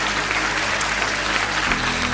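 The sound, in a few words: applause, audience clapping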